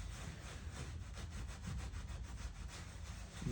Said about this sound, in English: So I'm going to keep scrubbing at them like this